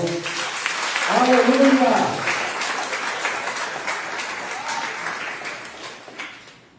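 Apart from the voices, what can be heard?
congregation applauding in church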